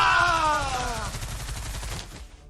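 A single gunshot in Stargate Timekeepers, fairly loud and close, with a bright crack that falls in pitch and dies away over about two seconds.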